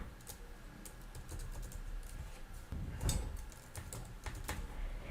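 Fingers tapping on a computer keyboard to enter a role name in Discord server settings, quick close clicks in irregular bursts with no talking.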